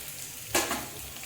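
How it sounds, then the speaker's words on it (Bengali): Onions and boiled potato hitting hot oil in a pan for Bengali aloo puri filling, giving one sudden sizzling burst that swells and then settles into a steady, fairly quiet frying hiss. "পেঁয়াজটা দেখেন হালকা করে ভাজা হয়ে গেছে, এর মধ্যে আমি দিয়ে দিচ্ছি এই যে সিদ্ধ আলুটা"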